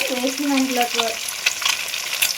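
Chicken pieces frying in a pan and being stirred, a constant sizzle with scraping spoon strokes and a brief whistling tone near the start.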